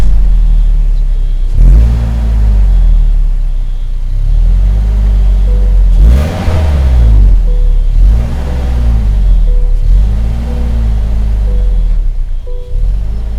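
A 2024 Toyota Land Cruiser Prado engine running close and loud, rising and falling through several repeated revs over a steady idle rumble, with no talking.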